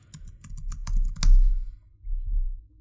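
Rapid keystrokes on a Mac keyboard as an image file name is typed, a quick burst of close, crisp clicks over the first second and a half, followed by quiet low room rumble with no talking.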